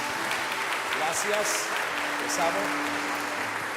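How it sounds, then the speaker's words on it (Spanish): A church congregation applauds the Lord in a steady, continuous wash of clapping while someone speaks briefly over it. "Démosle un aplauso al Señor."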